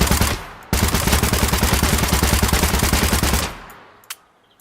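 UZI submachine gun emptied in one long full-magazine burst in Gunsmith Simulator, a loud, rapid, evenly spaced automatic rattle running about three seconds before stopping, followed by a faint mechanical click.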